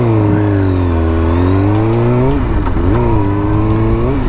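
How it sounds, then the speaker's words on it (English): A car engine revs and drops while downshifting with the clutch, loud and close from inside the car, holding a steady drone before dipping and rising again in pitch as the gear changes. "So I don't gotta give it much gas now to downshift."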